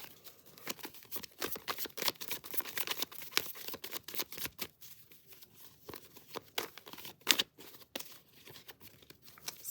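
Rapid papery riffling and soft slapping as tarot cards are shuffled over and over, a busy irregular patter of card sounds with no speech.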